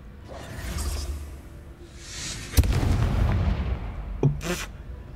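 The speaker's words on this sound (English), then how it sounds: "You literally caused, like, an explosion." Explosion in the Hogwarts Legacy video game: a sudden loud boom in the middle, following rushing whooshes, with rumbling aftermath and another sharp burst near the end.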